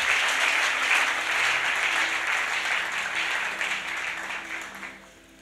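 A church congregation applauds together in a dense, sustained burst of clapping that fades out toward the end, with no voice over it.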